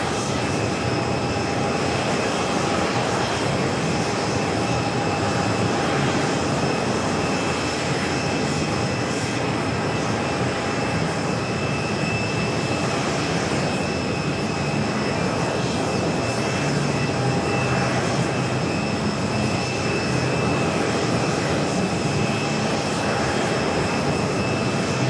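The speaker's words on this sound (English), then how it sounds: "Let's go to the A380 Super, now short funnel for 4 right" An Airbus A380 Super arriving from Dubai on short final to runway 4 right at JFK gives a continuous loud engine roar with a steady whine, sustained throughout with no talk.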